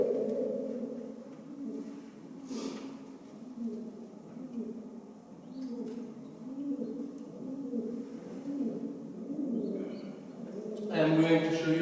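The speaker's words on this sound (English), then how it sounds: "Here I am scaring the pigeon" A pigeon coos in repeated low, rolling phrases among weathered ancient ruins at Bet Guvrin-Maresha in Israel, then a sudden rush of flapping wings at the end as it is scared off.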